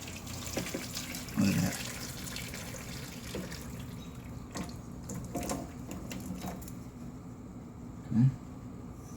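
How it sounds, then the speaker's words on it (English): Hot braising liquid is poured from a pot over red wine braised short ribs, making a soft, faint splashing trickle with a few louder splashes, under brief talk. "we're just going to pour that right on top of the meat"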